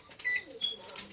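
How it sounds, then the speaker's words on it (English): A kitchen timer being set gives a few short, high electronic beeps in quick succession, fairly faint against a quiet room. "kitchen timer"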